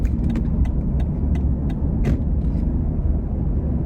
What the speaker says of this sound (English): We're gonna accelerate slowly now up to speed. Nice smooth shift. Good shift again.